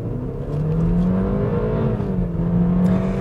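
A BMW 320 Gran Turismo accelerates hard in sport mode. The engine drones steadily and rises in pitch as the car gains speed, heard alone from inside the cabin.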